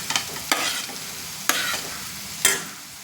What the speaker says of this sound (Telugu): నూనె బాగా కాగింది. ఇప్పుడు ఉల్లిపాయ ముక్కలు వేసుకుందాం. ఉల్లిపాయ పచ్చిమిర్చి వేసుకుందాం.